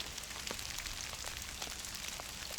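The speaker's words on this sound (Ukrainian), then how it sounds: "Ви бачите, дощ валить і валить." Heavy rain falls steadily during an evening fishing session on a riverbank. It makes a dense, constant hiss with scattered drop taps close by, and no voices.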